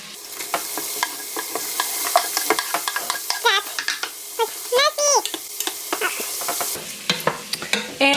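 Onions frying and being stirred in a pan for a family dinner, with close sizzling and repeated spatula scrapes and clinks against the pan, the sizzle steady beneath the scraping.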